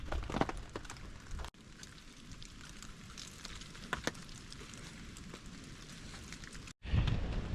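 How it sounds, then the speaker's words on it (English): Light rain sprinkles steadily at a cold December mountain campsite beside a fire, a soft continuous patter with a few louder drips, brief dropouts and a rustle near the end. "The rain is still sprinkling."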